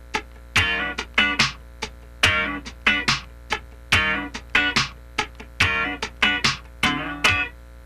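Syncopated funk rhythm guitar with the picking hand lifted on the third sixteenth, giving clipped chord stabs in a steady choppy groove, played clearly and alone with no talking.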